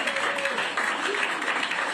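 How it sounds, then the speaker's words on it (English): An audience claps after a remark by Joe Biden about locking up Trump: a short, dense burst of clapping with faint voices mixed in. "they all clapped for it"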